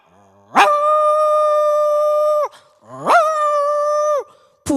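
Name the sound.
mimicry artist imitating a dog howling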